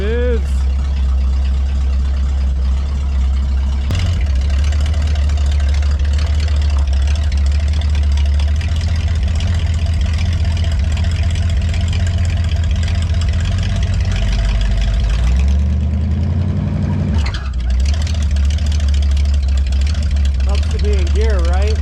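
A V8 swapped into a 1964 Ford Econoline van rumbles loudly and steadily at low revs, its deep drone close and continuous, shifting pitch briefly near the end as the van starts to move, with a voice talking over it.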